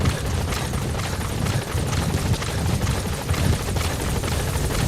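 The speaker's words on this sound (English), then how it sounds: "Support helicopter has arrived." Support helicopter arriving in Metal Gear Solid V: a steady, loud rotor thrum with low chopping pulses and broad wash noise that holds constant throughout, with no talk.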